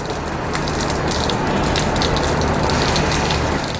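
Steady rain hissing across a broad band at a Class 1 powerboat race in Arendal, a dense continuous wash of drops with a faint low hum beneath, no voices.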